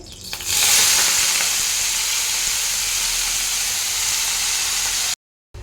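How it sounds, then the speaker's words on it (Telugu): Spinach hits hot oil with a sudden loud sizzle that settles into a strong, even frying hiss, holding close and steady before cutting off abruptly near the end. "మళ్ళీ ఇదే డిష్లో ఆయిల్ వేసేసుకొని పాలకూర వేసి ఫ్రై చేసుకోవాలి"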